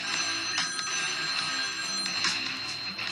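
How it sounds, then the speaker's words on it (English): A telephone rings in a room at night, a continuous electronic bell tone with steady ringing, moderately loud with no talking over it. "my phone would ring"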